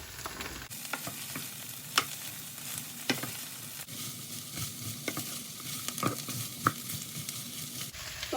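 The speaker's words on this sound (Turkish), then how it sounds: "Ve fasulyelerimi ekliyorum. Bir de böyle karıştıracağım." Beans fry and sizzle steadily in a pan while a utensil stirs, scraping and tapping the pan every second or so, close up and without speech.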